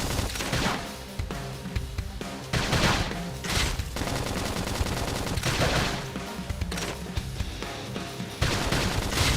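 Rapid bursts of gunfire crackle in Xenoblade Chronicles X: Definitive Edition on Switch, loud and dense volleys with brief pauses between them, no talking over it.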